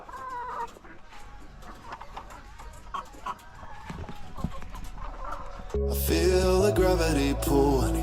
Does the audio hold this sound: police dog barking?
no